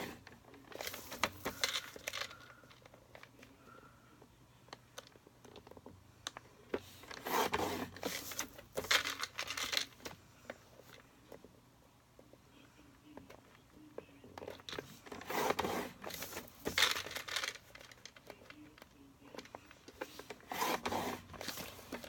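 Paper is scored by hand with a tool for a graduation cap gift box, giving close, quiet rasping strokes in repeated bursts with pauses between, while a soft voice talks at times.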